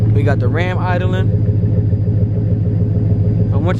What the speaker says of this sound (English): We got the Ram idling.